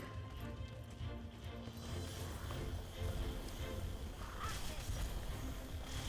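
Rapid rhythmic hoofbeats of a galloping horse racing a course in the game Wildshade pound steadily under a dense, noisy game soundtrack with a bright whoosh near the end.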